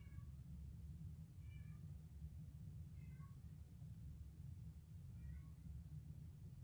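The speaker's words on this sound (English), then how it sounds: "Not my cat starting to sing when I just said that." A house cat meows four times, short and faint, at spaced intervals over a steady low background hum, with no talking.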